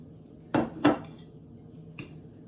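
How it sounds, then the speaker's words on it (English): A few eggs broken apart in a bowl for honeycomb sponge cake, giving two close clicks against the bowl followed by a softer tap a second later, over a quiet room. "So I'm just trying to like break the eggs apart"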